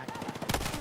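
Submachine gun fire in a video game, a short rapid burst of shots that is fairly faint and muffled.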